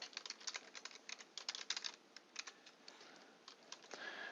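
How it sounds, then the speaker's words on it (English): Rapid, irregular clicks of typing on a computer keyboard while entering data into an Excel spreadsheet cell, close and fairly quiet, with uneven bursts and brief pauses between keystrokes. "So I'll start typing in cell G3."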